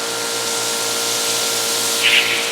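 A pressure washer fitted with a 1.47 orifice sprays foam in a steady, loud hiss with a constant motor hum underneath and a brief surge near the end, up close.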